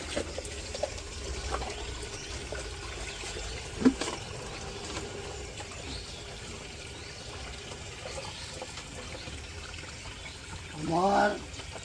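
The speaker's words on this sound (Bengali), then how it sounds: "পানি ভরতেছে।" Water runs from a village tap into a container, a soft steady trickle in the background with a brief louder splash near the end, while people talk nearby.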